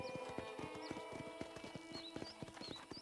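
Horses' hooves clip-clop steadily at a ranch corral in the Red Dead Redemption video game, a close, rhythmic run of hollow knocks with occasional short whistle-like calls above them and no talking.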